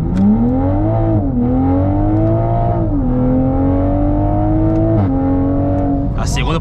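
A Toyota Supra accelerates hard on a short drag strip run, its engine climbing loudly through the revs with sharp drops at each gear shift, close and continuous.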